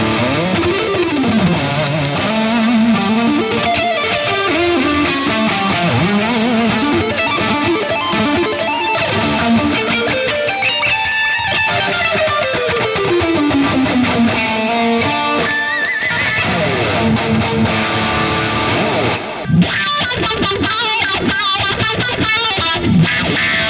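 Electric guitar lead lines run through a PolyChrome DSP Lumos effects unit, sustained distorted notes bending and sliding in long phrases, loud and continuous with no voices.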